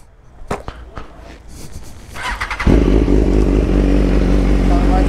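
A BMW S 1000 RR with an Atalla full stainless steel header and the original exhaust tip sits quiet through a few clicks, then fires up into a loud, raw, steady engine roar up close.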